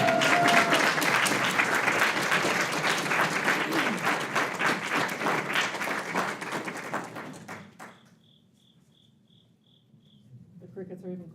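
An audience at a school board meeting applauds with dense, steady clapping that fades out after about eight seconds, leaving faint rhythmic cricket-like chirps before a few scattered claps return.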